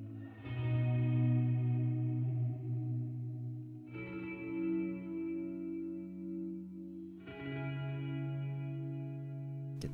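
Meris MercuryX reverb pedal with tank modulation set low, three sustained chords struck about every three and a half seconds, each ringing with wavering chorus-like shimmer, close and clean with no talk.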